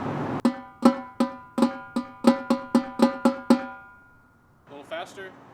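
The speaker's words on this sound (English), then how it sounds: "On one drum it sounds like this under tempo." Tenor drum playing flam taps and Swiss Army triplets below performance tempo, about a dozen crisp ringing strokes in a steady pattern, close and clear, followed by a brief softer flurry.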